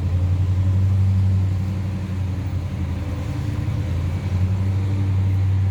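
A vehicle engine runs at a steady low idle rumble close by, a constant deep hum with slight fluctuations, while cars are moved around a classic car lot; no one speaks.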